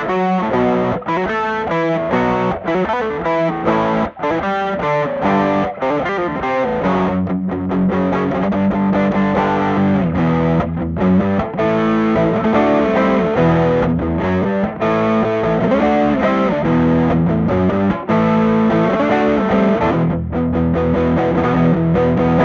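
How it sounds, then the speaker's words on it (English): An overdriven twelve-string electric guitar, a Gibson Les Paul 12-string Traditional through a hand-wired Ibanez Tube Screamer, plays a long passage of chords and riffs, thick and jangly with gritty distortion, loud and steady with no voices. "what it sounds like with a little bit of distortion using a hand-wired Ibanez Tubescreamer"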